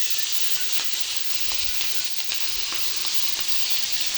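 Green chillies and onion frying with cumin in hot oil: a steady, dense hiss and sizzle that holds throughout, with faint occasional ticks and pops, close and even.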